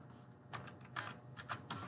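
Computer keyboard keys, including the Enter key, are pressed with a few soft, separate clicks spaced irregularly over a quiet background.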